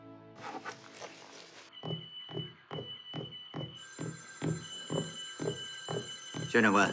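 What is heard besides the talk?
telephone ringing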